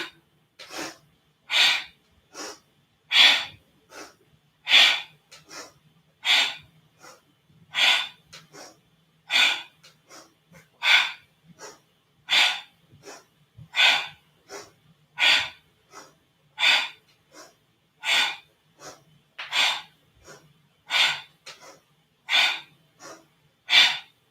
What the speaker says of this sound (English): Powerful breathing. Inhale, straighten. Exhale, squat.